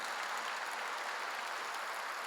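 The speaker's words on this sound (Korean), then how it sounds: "박수 세게 쳐요" A church congregation claps hard together during a sermon, a steady dense wash of applause filling the room without a break.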